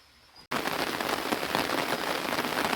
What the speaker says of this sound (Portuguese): Gente, começou a chuva de novo, olha só. Mas tá uma chuvinha bem gostosa aqui hoje.